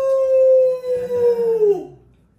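A single sustained coyote-style howl, most likely a human voice imitating coyotes. The held, fairly loud tone slides downward and trails off at the end.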